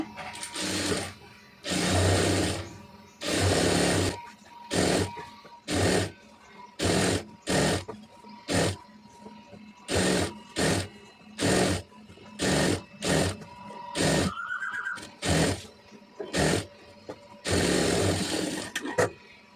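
A sewing machine stitches a folded hem on cigarette pants in repeated close, loud bursts of rapid whirring, separated by short pauses, with a brief squeak partway through.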